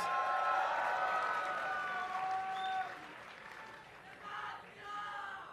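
A distant esports crowd at a League of Legends match cheering and clapping, a steady wash of applause and shouts that swells, then fades and lifts again near the end.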